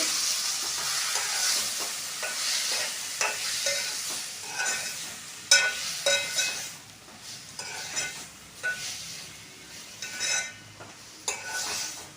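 A spatula stirs telagapindi curry in a frying pan, with scraping strokes repeating in an uneven rhythm over a soft, close sizzle and occasional light clinks against the pan.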